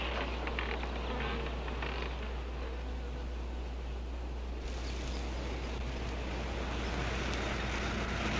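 Wasps buzz steadily in a field, a dense continuous drone with no pauses, loud and close, over a low rumbling hum.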